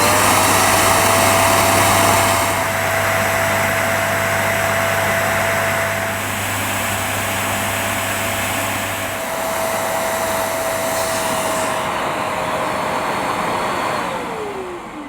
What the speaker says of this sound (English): Now I need to insert the hose end into the hose self-clean port like this, and then switch on for a few seconds.